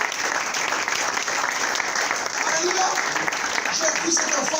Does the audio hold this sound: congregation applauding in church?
yes